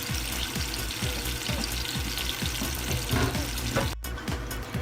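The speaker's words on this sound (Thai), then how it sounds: "กับปลาพลิกไปมา เอาน้ำซอสราดแล้วปิดฝาจ้า" Fish simmering in sauce under a lid in a covered pan gives a steady, close bubbling sizzle with a low rhythmic gurgle throughout, broken near the end by a brief sharp clatter.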